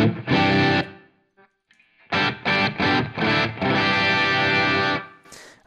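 Distorted electric guitar through an amp simulator, delay bypassed, plays short chords and sustained notes in bursts separated by brief silences, a dry tone with only faint ambience.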